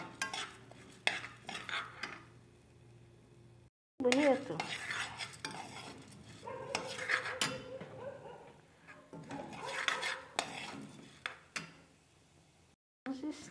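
Annatto seeds crackle and sizzle in hot oil as a utensil stirs and scrapes the pan, with someone talking over the cooking.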